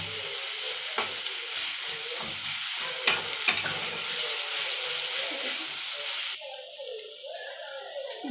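Onions frying in a pan give a steady, moderate sizzle with a few sharp clicks from stirring, before the sizzle quiets partway through into a softer, thinner crackle.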